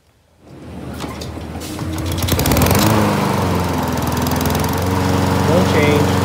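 A Honda GCV160 lawn mower engine that burns oil and blows blue smoke starts up and settles into a loud, steady running drone close by.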